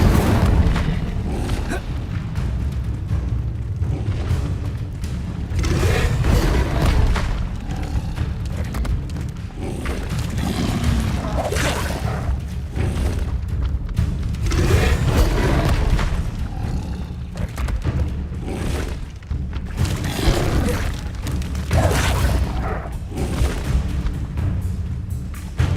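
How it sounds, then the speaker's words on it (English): An Inferno fire spell, the Incendio, is cast again and again in a Harry Potter wizarding video game, giving repeated heavy booming bursts and thuds at an irregular rhythm over a steady loud rumble, with faint talk in the background. "And cast an Inferno on him"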